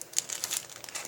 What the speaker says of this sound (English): It's in a little plastic bag.